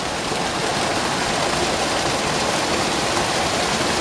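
Water falling at an old water mill beside a former washhouse gives a steady, loud, broadband rush, continuous and unbroken, with no voices.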